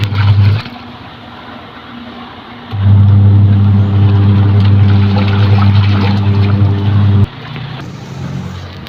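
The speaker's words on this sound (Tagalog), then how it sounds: "pag umikot yung motor ng washing" A washing machine motor running off a solar setup spins up after a short lull into a loud, steady low hum, holding for about four seconds before cutting out abruptly.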